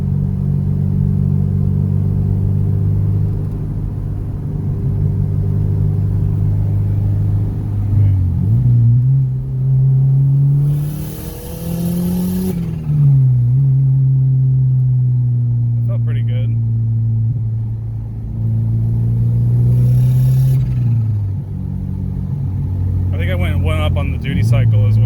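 A turbocharged Subaru Legacy engine drones loudly as it pulls through a fourth-gear roll-on, pitch climbing steadily then dropping at shifts and rising again, with faint turbo hiss and people talking over the cabin rumble.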